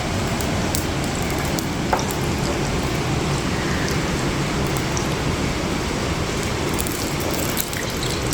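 Heavy monsoon rain falls on a terrace where potato bhaji are being fried, a loud, dense and continuous patter with occasional nearer drips, with no voices.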